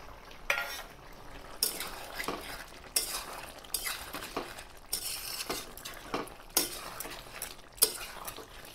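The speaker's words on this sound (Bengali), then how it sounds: "ভালো করে নাড়িয়ে ফোটার জন্য কড়াইয়ে রেখে দিতে হবে।" Chicken and tomato being stirred in a kadai for chicken do pyaza, a spoon scraping and clinking against the pan in repeated strokes over a low sizzle, close and fairly quiet, with no talking.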